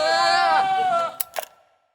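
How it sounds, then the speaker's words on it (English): Goats bleat and scream in a long, wavering, strained cry lasting about a second, followed by two shorter, fainter bleats, heard close and alone. "Screaming goats are all the rage now."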